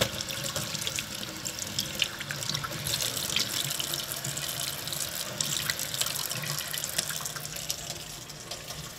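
Freshly caught fish get a light rinse under running water before smoking, a steady close splashing stream from a tap that runs alone for the whole stretch.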